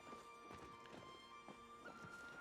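A horse walks in the video game Palia, steady rhythmic hoof clip-clops at a walking pace, soft and fairly close with no talking.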